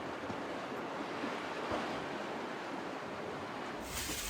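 Waves slosh and wind rushes steadily around a sailboat on a bumpy sea running against the current, a continuous close wash of water and gusting air with no voices.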